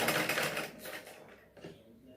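A sewing machine stitches a sleeve lining, giving a brief rapid mechanical chatter that fades out after about a second and a half, with a voice faintly present.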